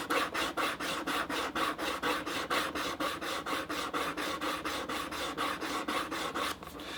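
Edge of a folded leather bag being sanded flat, giving a fast, regular run of rasping back-and-forth strokes, close and steady for several seconds with no talk.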